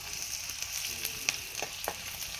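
Garlic and green chillies sizzling in a pan over a wood fire, with a steady soft crackle and a few sharper spits and pops close by.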